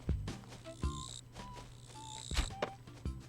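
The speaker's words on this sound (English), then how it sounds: "Oh, I think that's a grasshopper" A grasshopper chirps in the video game Animal Crossing, a few short, quiet, high chirps spaced irregularly among soft game thumps and footsteps.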